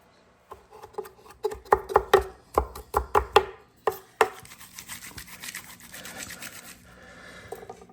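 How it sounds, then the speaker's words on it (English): Garlic cloves being peeled fast by shaking or knocking them, a rapid run of sharp close rattles and taps that then gives way to softer rustling and scraping. "Look at that, fastest way to peel garlic."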